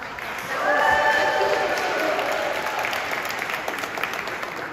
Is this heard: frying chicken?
no